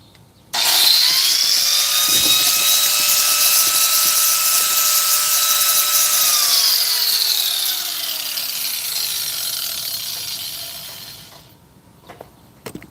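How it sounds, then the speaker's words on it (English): A handheld angle grinder, used on a hitch mount project, switches on with a loud, high, steady whine, runs for several seconds, then slowly winds down to silence, followed by a few faint clicks. "Got my angle grinder."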